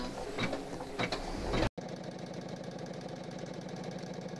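An embroidery machine stitches a dog outline on felt. A brief burst of clattering and scraping gives way, after a short cut, to fast, steady mechanical needle chatter with an even whirring rhythm close by.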